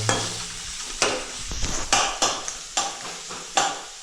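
Tempering (phodni) for cooked drumstick curry sizzling in a pan, with a steady hiss broken by several sharp stirring scrapes and clinks of a spoon against the pan, close and fairly loud, no talking.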